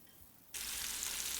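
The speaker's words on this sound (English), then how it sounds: "Ah, the sizzle of a fry-up." A fry-up starts sizzling in a pan with an abrupt onset, then steady, bright hissing crackle continuing at an even level after a quiet start.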